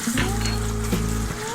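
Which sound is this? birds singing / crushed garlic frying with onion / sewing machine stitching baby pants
crushed garlic frying with onion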